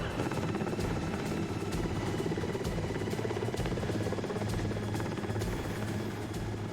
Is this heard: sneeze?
no